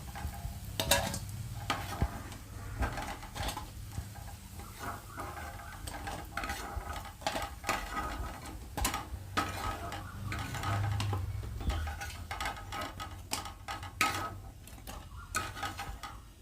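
Bora fritters frying in a pan of oil, a steady low sizzle running throughout with frequent clinks and scrapes of a utensil against the pan as the pieces are lifted out one by one.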